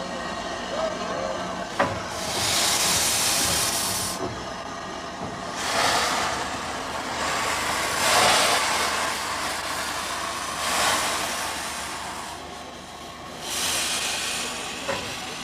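A steam locomotive shunts back and forth on a heritage holiday line, with surging steam hisses and chuffs in long waves, broad and fairly close, plus a few clanks between bursts.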